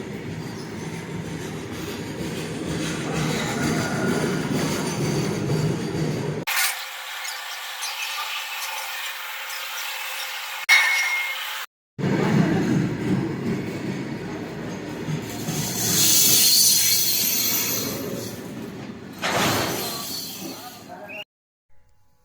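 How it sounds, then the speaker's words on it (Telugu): A small train rumbles and clatters close by at a small railway station, cut into segments, with a voice speaking over parts of it. "చిన్న రైల్వే స్టేషన్లో చిన్న ట్రైన్ ఇదిగోండి"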